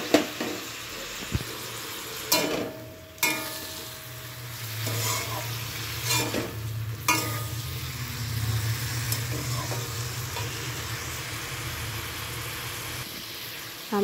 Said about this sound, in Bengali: তো এটাকে জিরে গুঁড়োটা দিয়েছি, এবার একটু নাড়িয়ে নিই।